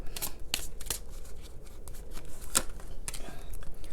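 Oracle cards being shuffled by hand in quick, crisp riffles and slaps, several sharp snaps spaced irregularly over a soft room hiss, close and fairly quiet.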